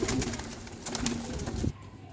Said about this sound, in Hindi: ये लाखा कबूतर छोड़ा है